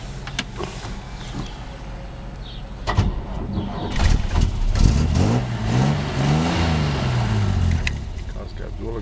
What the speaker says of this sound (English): Car's got dual exhaust, sounds real nice.